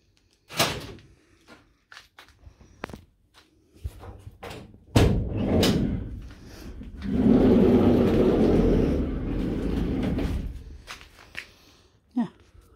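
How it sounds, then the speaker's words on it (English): The sliding side door of a Mk7 Ford Transit van under conversion is worked open, giving sharp knocks and clunks, then a long loud rumbling slide with a heavy thud near the end. "Let's just open up the side door."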